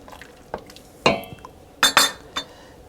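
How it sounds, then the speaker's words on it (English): A spoon stirs lemongrass chicken broth in a pot, several separate clinks and scrapes against the metal, sharp and close, with quiet gaps between them. "Stir."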